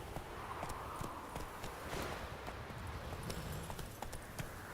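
Roach, Geralt's horse in the video game The Witcher 3, walks along with a continuous clip-clop of hooves, steady and close, over a faint background ambience.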